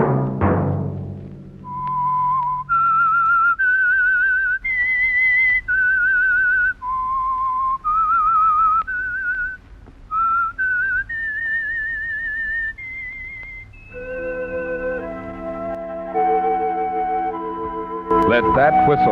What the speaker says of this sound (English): Let that whistle be your signal for the Whistler, each Sunday night at the same time.